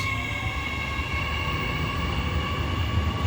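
Passenger train departing a station platform on the Newcastle line, a loud continuous rumble and whine of traction motors and wheels close by, steady throughout with no talk.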